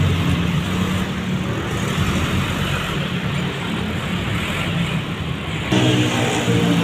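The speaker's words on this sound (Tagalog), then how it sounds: "Traffic." Road traffic rushes past in a steady, broadband roar, loud and close, with a slight surge in level near the end and no voices.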